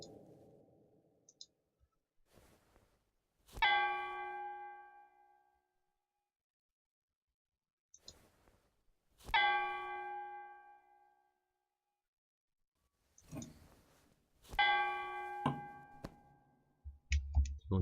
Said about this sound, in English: various bells in the castle ring by pulling it